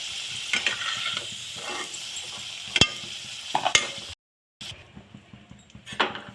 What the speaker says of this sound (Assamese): আলুখিনি ভালকৈ লৰাই মই ফ্ৰাই কৰি ল'ম ৰঙা হোৱালৈকে।